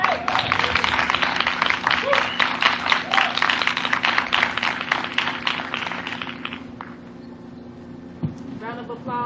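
An audience at a live Faith, Hope, and Love for a Change event in Raleigh, North Carolina bursts into steady, dense applause for about seven seconds. The clapping then thins and fades as a voice speaks over it.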